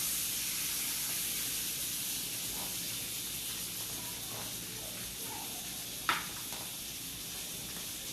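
Seafood for scampi set cavity side down in sizzling salted butter in a pan, giving a steady soft hiss throughout with a brief sharper crackle near the end.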